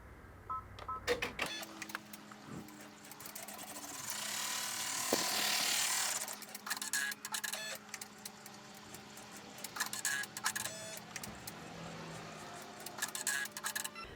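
An embroidery machine sews placement lines using blue thread, making close, fairly quiet rhythmic ratcheting and clicking of the stitching mechanism, with a brief whirring hum in the middle and no talking.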